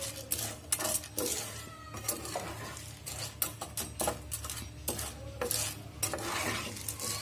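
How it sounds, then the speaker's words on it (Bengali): Popcorn kernels are stirred in a pan over a low flame, a string of soft metallic scrapes and taps at an uneven rhythm over a faint background hum, quiet and with nobody talking. "ফ্লেমটা কমানো অবস্থাতে আস্তে আস্তে আমি নাড়তে থাকবো।"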